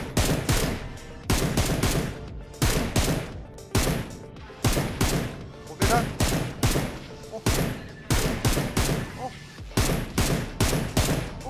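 Rapid bursts of gunfire from PUBG Mobile on a desert map, about fifteen sharp shots in quick uneven clusters, loud and close, with faint voices underneath.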